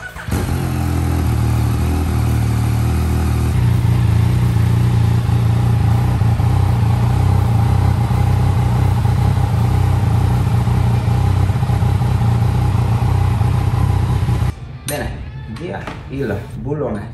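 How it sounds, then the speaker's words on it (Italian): Yamaha MT-09 motorcycle engine warming up before an oil change, a steady close idle running loud and continuous for about fifteen seconds, then cutting off into quieter handling noises. "Andiamo a scaldare la moto per qualche secondo, in modo che l'olio sia un po' più fluido"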